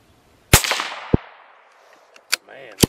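Rifle shots fired from a rifle held in a BOG DeathGrip tripod on a bench vise: three sharp, loud cracks spaced apart, the first trailing a long ringing decay, with a faint click in between.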